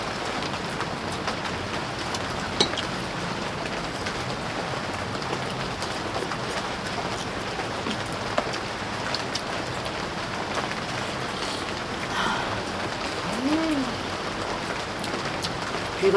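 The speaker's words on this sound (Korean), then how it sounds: "빗소리가 너무 듣기 좋아." Steady rain falls at a rural countryside home, a soft continuous hiss with scattered drops, moderately quiet and lasting throughout with no talk.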